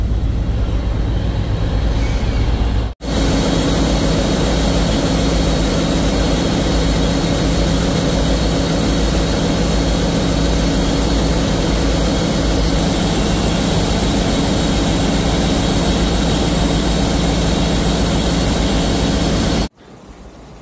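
Engine of the Sundarban 7 passenger launch cruising at medium speed, a loud, steady droning rumble with a constant hum that runs unbroken for most of the stretch and cuts off sharply near the end.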